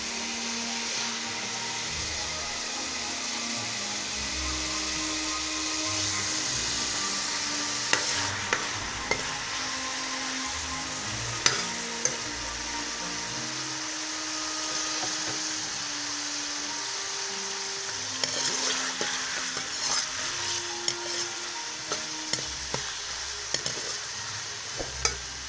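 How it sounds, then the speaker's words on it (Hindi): Chopped onions frying in hot oil in a pan for spinach and potato curry give a steady close sizzle throughout, with sharp spoon scrapes and clicks against the pan, and no talking. "ऑयल हमारा गरम हो गया है। अब इसमें प्याज डाल दूँगा।"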